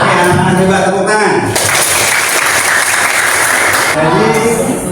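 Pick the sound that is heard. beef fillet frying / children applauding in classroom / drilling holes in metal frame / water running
children applauding in classroom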